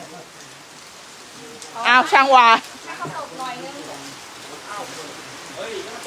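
Steady rain falls at a house repair site, a soft continuous hiss across the whole stretch while people talk over it.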